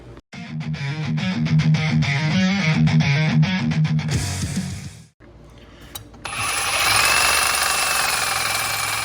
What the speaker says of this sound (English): is cut it up with a Sawzall